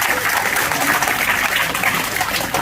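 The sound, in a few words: audience applause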